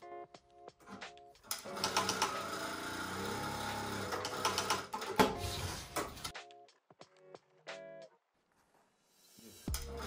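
Juki DDL 8000A industrial sewing machine stitching a bar tack, a loud dense mechanical whir with rapid needle chatter lasting several seconds, then stopping, followed by a few quieter clicks and short stop-start bursts.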